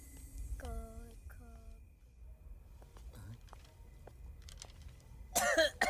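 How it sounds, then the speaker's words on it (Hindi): A couple of hoarse coughs close by, followed by a rough throat-clearing rasp, with a brief burst of noise at the end. "बहुत खांसी आ रही है"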